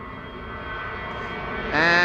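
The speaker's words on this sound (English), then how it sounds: "EasyJet A319, another one." An EasyJet Airbus A319 at Schiphol gives a brief steady jet hum that rises into a louder, whining engine tone near the end.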